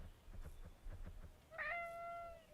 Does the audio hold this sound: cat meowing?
yes